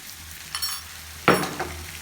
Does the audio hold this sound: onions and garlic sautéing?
yes